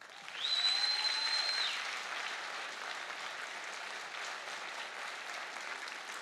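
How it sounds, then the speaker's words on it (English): An audience at an honor band concert applauds, a crowd clapping that swells quickly, then settles to steady clapping, with a brief whistle near the start. "Give them a hand applause."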